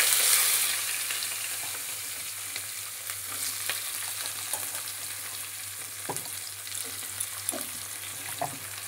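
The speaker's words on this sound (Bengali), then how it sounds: "এবার কড়াইতে আমি দিয়ে দেবো পেঁয়াজ কুচিগুলো" Chopped onions hit a hot wok and fry with a bright, continuous sizzle, punctuated by occasional stirring scrapes and clinks of a utensil against the metal, close and steady with no talking.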